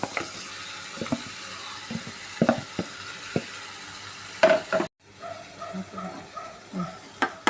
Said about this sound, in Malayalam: മസാല പരത്തി വെച്ച് ചിക്കൻ ഇടുക